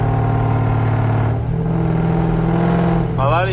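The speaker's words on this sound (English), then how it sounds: "I hope y'all hear the exhaust pretty good" A 392-swapped second-generation Dodge Charger's exhaust drones steadily from inside the car on a late-night drive, with a sharp rising rev near the end.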